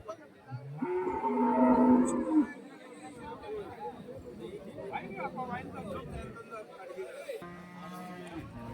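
A cow moos loudly up close at a native cattle market near Hosur, Tamil Nadu, then a busy market scene follows with background chatter and scattered animal calls from livestock around.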